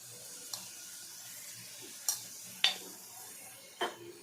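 Onion and tomato with salt and turmeric sauté in a pan, giving a soft, steady sizzle with a few sharp clinks of a utensil stirring against the pan.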